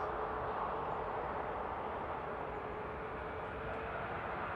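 An easyJet Airbus A320ceo departs the airport, heard as a steady, distant broadband jet roar that holds evenly throughout with no talk.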